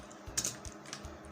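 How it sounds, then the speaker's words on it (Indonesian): Quick, light keystrokes on a computer keyboard, about a half-dozen taps in an irregular rhythm, close and fairly quiet with no talking. "Oke, langsung saja kita ketikkan"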